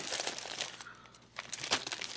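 Packaging for an OXS Thunder Light desktop gaming speaker is cut open, giving close crinkling and tearing of plastic and cardboard in short scratchy bursts with a brief gap in the middle.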